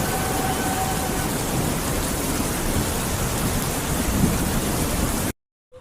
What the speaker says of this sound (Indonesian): Malam itu hujan turun dengan derasnya.